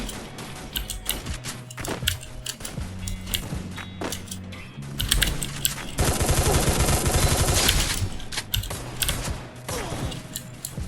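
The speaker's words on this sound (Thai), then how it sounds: "ยิงไวจัด จะเป็นแม็กชา แต่เป็นยิงไวนะคุณดูนะเป็นยิงไวยิงไว" Rapid gunfire from a gun in the Free Fire video game, quick bursts of synthetic shots over game music and sound effects, with a dense sustained volley in the middle.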